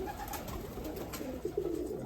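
Racing pigeons in a pigeon loft coo softly, with low rolling calls rising near the end over steady room noise.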